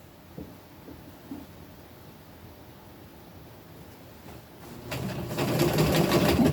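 Home sewing machine stitching a seam on an upcycled tunic, a steady close whirring run that starts after a few seconds of quiet handling and grows louder toward the end.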